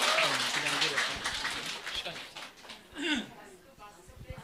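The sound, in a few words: audience applause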